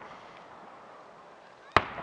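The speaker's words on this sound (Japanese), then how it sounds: "これって新しいっぽくない、この花火は" A single firework bursts with a sharp, loud crack and a short fading tail after a quiet outdoor lull, at a cherry blossom festival display in Tatsunokuchi Shinsui Park, Hitachiomiya, Ibaraki, in 2019.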